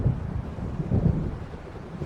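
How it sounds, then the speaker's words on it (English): Low, rolling rumble of thunder from an approaching storm in the video game Alan Wake Remastered, steady and moderately loud with no speech. "It seems there's a storm coming."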